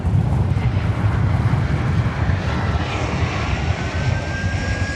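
A Finnair airliner takes off at DFW Airport, its jet engines a loud continuous roar with a steady broadband rumble and rising whine, heard from outside with some wind buffeting.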